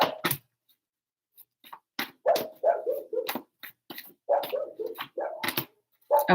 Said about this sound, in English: I might hear my dogs in the back.